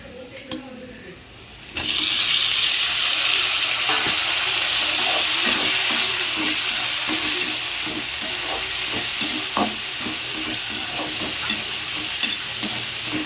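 Tomatoes go into a pan of well-browned fried onions, setting off a loud, steady broadband sizzle that swells suddenly and holds, with a rhythmic scrape of stirring running beneath it.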